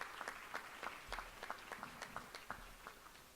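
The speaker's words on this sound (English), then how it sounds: "Give all of them a round of applause for being part of the New Orleans Saints organization." Crowd applause at a New Orleans Saints Hall of Fame induction ceremony, a steady patter of many hands clapping indoors, moderately distant and fairly soft, with scattered louder claps standing out.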